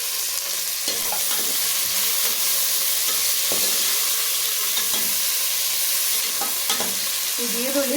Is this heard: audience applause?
no